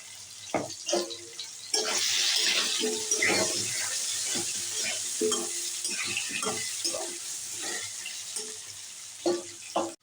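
Potato pieces fry in a pan with light salt and turmeric, a soft sizzle broken by scraping stir strokes and faint clinks, with a running-tap wash in the background.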